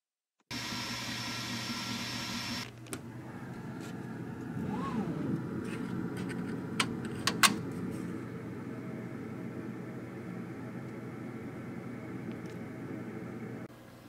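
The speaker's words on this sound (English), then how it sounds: "It's really beneficial to have Air Assist running while you're engraving photos." An xTool S1 laser engraver with its air assist running during photo engraving gives a steady, even whirring hum that holds throughout, with a few faint clicks partway through.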